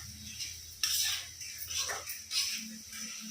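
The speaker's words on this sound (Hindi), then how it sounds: "तो भून लेती हूँ और इसमें डाल देती हूँ टमाटर।" Tomatoes tossed into a pan of frying spices for a semi and lauki vegetable dish, stirred with a metal utensil that scrapes and clinks against the pan in irregular strokes over a faint sizzle, close and moderately loud with no talk.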